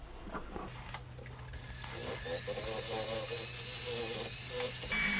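Steady scraping hiss of a green Scotch-Brite pad rubbing scratches from a wax signet ring, close and quiet, growing slightly more intense partway through and continuing without pause.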